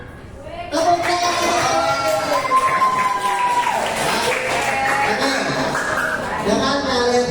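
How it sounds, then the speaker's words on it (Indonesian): A class of children at a school lesson clapping together in a steady burst of applause, with young voices chattering and calling out loudly over it throughout. "Tepuk tangan."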